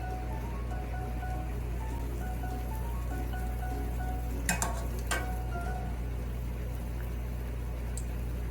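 Food fries in a shallow amount of oil in a small pot, giving a steady soft sizzle and crackle over a constant low hum, with a couple of brief clinks partway through.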